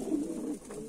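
Pigeons in a loft coo softly and steadily, a low continuous burble up close at low volume. No one speaks.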